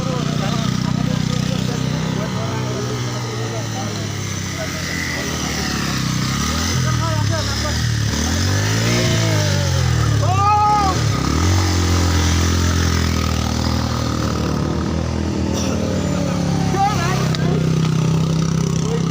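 A motorcycle engine in Sungsang Para revs over and over, its pitch rising and falling in uneven bursts under steady nearby talk from several men.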